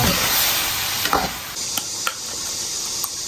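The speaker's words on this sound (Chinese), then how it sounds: "周边给它淋上老抽，再给它翻炒" Pork intestines and ribs being stir-fried in a wok with dark soy sauce, opening with a loud hissing sizzle that eases, followed by a few sharp clanks of the spatula.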